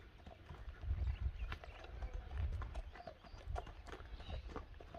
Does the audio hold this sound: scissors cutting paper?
no